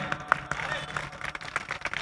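Applause from the audience at a mushaira in Jogeshwari East, Mumbai, welcoming a poet: a brief patter of many hands clapping, moderately loud and irregular.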